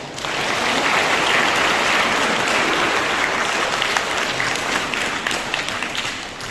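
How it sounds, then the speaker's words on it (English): A large crowd applauds loudly and continuously at the 34th Nagaland State Taekwondo Championship in Phek, a dense wash of clapping that holds steady and eases slightly toward the end. "Let's give them a big round of applause."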